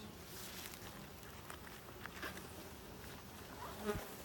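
Honeybees hum and buzz around a nucleus hive being moved into a ten-frame hive, a soft, continuous drone with occasional faint knocks nearby.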